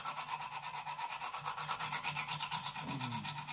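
A knife edge being honed on a Lansky guided sharpening system: steady, rhythmic back-and-forth rasping strokes of stone on steel, close and continuous, with no talking.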